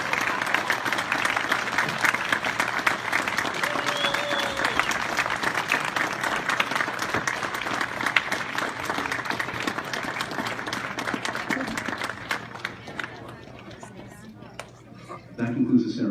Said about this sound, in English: applauding veterans